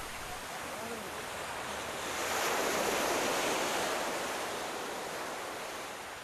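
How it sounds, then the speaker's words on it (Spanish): Sea waves break along the Portuguese west coast, a steady broadband wash that swells to a fuller surge midway and then eases back, with wind noise throughout. "El mar."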